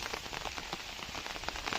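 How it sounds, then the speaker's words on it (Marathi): Steady patter of rain falling on a surface, a dense hiss with scattered close drops, no voices. "थोडासा आता पाऊस पडायला सुरुवात झालं"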